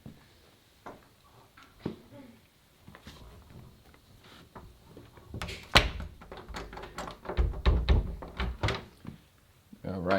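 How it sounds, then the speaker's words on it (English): A door on a goat pen being closed, a few dull thunks and knocks amid shuffling and clatter, with someone talking over the sounds. "Let's make sure the door closes, okay?"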